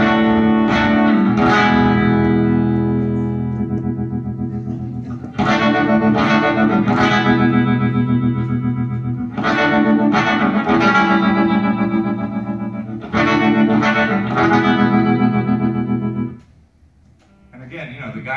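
An electric guitar plays through a tremolo effect, loud chords pulsing in rapid wobbling bursts with distortion and reverb, repeating in phrases separated by short pauses.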